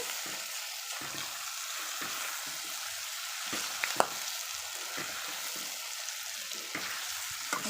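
Boti curry with chili powder and coriander powder sizzles and fries in a pan while being stirred, a soft steady crackle with occasional scraping clicks.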